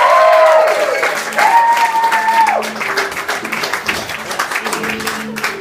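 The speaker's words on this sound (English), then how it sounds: "Give them a round of applause, dude." Theatre audience applauding comedians after a live stand-up show, sustained clapping and some cheering from a crowd, with a loud voice calling out over it.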